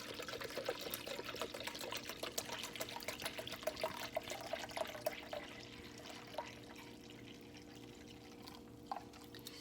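Apple cider vinegar pouring into a measuring cup, a steady liquid trickle and splash running for most of the stretch at moderate level, with faint kitchen background and no talking.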